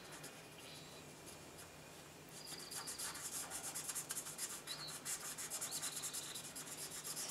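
A Spectrum Noir alcohol marker rubs steadily across paper in a faint, close, rhythmic scratching of quick back-and-forth strokes that grows slightly stronger partway through.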